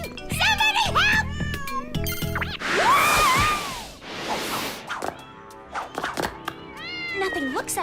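Several cats meow repeatedly, close by, with rising and falling cries, mixed with a burst of noisy rustling and some knocking sounds.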